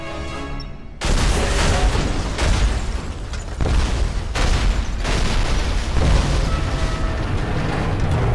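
A massive explosion destroys a pumping station in the sci-fi shooter game Alien Rage, a sudden loud boom that turns into sustained rumbling blasts and debris roar lasting several seconds.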